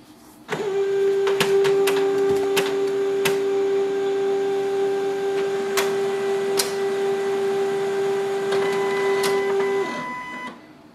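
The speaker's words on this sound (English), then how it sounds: "Your printer will restart and it will come back to the main screen." Canon ImageCLASS MF643Cdw color laser printer restarting after a factory reset: a steady mechanical whir runs for about nine seconds with scattered clicks and clunks, then winds down, close and moderately loud with no talking.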